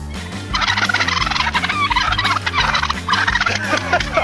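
Turkeys gobbling loudly and repeatedly around a police officer, a dense chorus of close bird calls over a low rhythmic backing.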